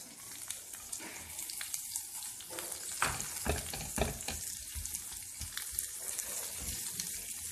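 Potatoes frying in a pan for bread kabab give a dense, crackling sizzle, with uneven louder bursts in the middle and scattered utensil clatter throughout.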